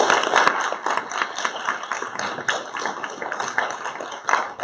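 Scattered hand claps ring out in a school board meeting room, uneven and fairly close, rising and falling in short bursts over a steady room background.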